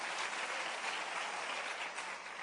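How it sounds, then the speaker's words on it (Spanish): Steady, dense applause from a church congregation fills the space, a continuous wash of many hands clapping at even strength that eases slightly toward the end, with no voices on top. "Denle un aplauso bien fuerte al Rey."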